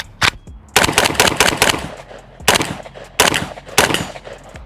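AK rifle firing Polish GROM ammunition outdoors, loud close sharp shots in quick bursts and singles, some rapid strings and gaps between them, no talk.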